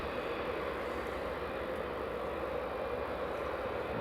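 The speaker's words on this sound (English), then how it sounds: "That's the Saudi just taxiing up now." A Saudia Boeing 777 airliner taxis at Newcastle International Airport, a continuous, even jet-engine roar that stays loud and close throughout.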